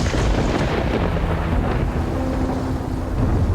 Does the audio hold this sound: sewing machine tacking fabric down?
no